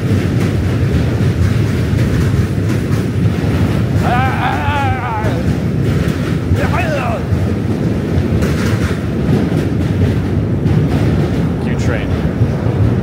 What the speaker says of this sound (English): Another train, of course, to send us off this bridge.